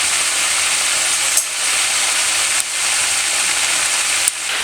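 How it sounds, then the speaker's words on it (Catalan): Floured salt cod frying in plenty of very hot oil, a steady dense sizzle and crackle throughout with a few brief clicks or knocks, no talking. "i el posem a fregir en oli ben calent."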